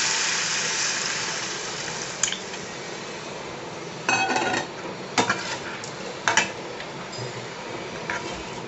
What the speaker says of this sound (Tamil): இப்போ வந்து தக்காளி புளி எல்லாம் கரைச்சி வச்சுருக்கோம் இல்லையா அதை வந்து இதில் ஊற்றிக்கணும்